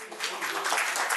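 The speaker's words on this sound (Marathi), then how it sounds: "जे मुलीकडचे आहेत त्यांनी पहिल्यांदा टाळ्या वाजवायच्या" Guests from the bride's side clap together at a traditional engagement ceremony: a brief, dense burst of crowd applause, steady and fairly close.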